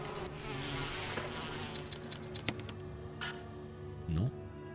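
Wasps buzz in the Resident Evil remake video game, a steady insect drone with scattered clicks and a brief louder swell near the end.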